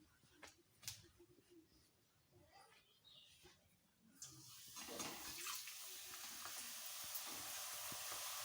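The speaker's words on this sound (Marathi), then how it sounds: "छान लाल अशी पुरी तळून घ्यायची आपल्याला, लालसर" Rolled puri dropped into hot oil for Sindhi dal pakwan: a faint, sparse clatter for the first half, then a loud, dense, steady sizzle of frying that fills the rest.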